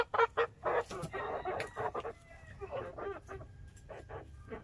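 Rhode Island Red rooster and hens cluck repeatedly in a run, in loud close bursts of varied calls over faint background noise.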